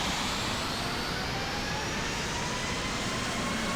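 A simulated airliner in the Infinite Flight game taxis to runway 4 left at JFK, its jet engines making a steady, loud, unbroken roar throughout.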